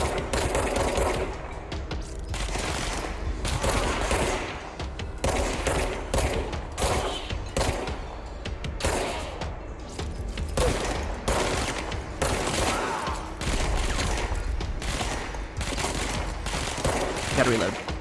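Sustained, rapid gunfire from the video game Control keeps up across the whole stretch in dense, repeated bursts, loud and close. Someone talks now and then beneath the shooting.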